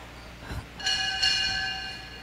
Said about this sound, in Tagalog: Pwedeng pa isang kampana nga dyan.